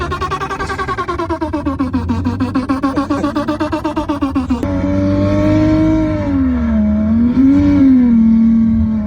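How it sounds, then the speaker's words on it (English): Engine noise generated by a Rummer app from OBD engine-speed data plays through a car's speakers: first a fast, pulsing revving tone that wavers up and down, then a smoother sustained synthetic engine note. "the app can see the speed of your engine and it plays the sound of your choice through the speakers in real time"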